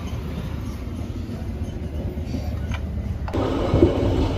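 The Sri Tanjung economy-class train pulls away, a steady low rumble from inside the carriage with a sharp clunk partway through, after which the rolling noise grows slightly louder.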